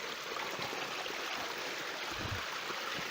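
A steady, broadband rush of falling water from a waterfall on a paddling trip, continuous and even throughout, with no voices over it.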